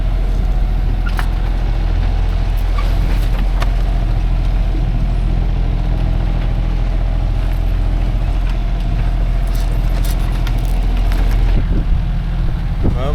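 A sailboat's engine runs steadily while motoring along on a summer cruise, a continuous low drone that stays loud and even throughout with faint water and wind noise and no talk.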